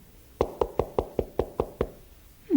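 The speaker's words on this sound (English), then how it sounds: "There's someone knocking at Grandpa's door." Eight crisp knocks on a door in an even, quick rhythm, fairly close, followed by a brief rising sound at the end.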